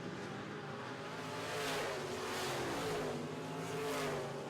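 Midwest Modified race cars roar out of turn 4 at a dirt oval, their engines swelling in slow waves of revving and passing, moderately distant and steady throughout, with no talk over them.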